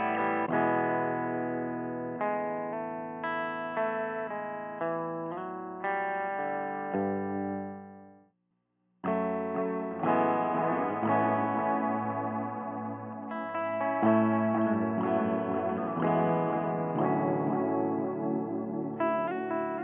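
Sending V2 delay pedal adding atmospheric echoes and noisy textures to sustained, chorused synth-like tones, with a brief dropout midway before the swirling, repeating layers return louder.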